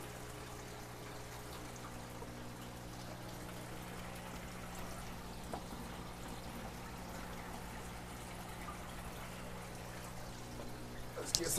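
Water pours and trickles steadily into a DIY above-the-tank aquarium refugium, a soft continuous splash over a low constant pump hum, with a brief louder splash at the very end.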